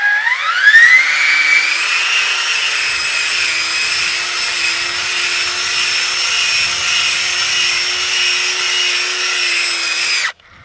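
A Ryobi post hole borer revs up quickly and holds a steady, loud whine as it bores into the ground under pressure, with a faint low rumble of soil and roots, then cuts off abruptly.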